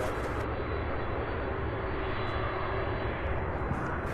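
A jet airliner roars steadily as it takes off at Louisville International Airport, a loud, continuous broadband rumble of engines holding close and even throughout.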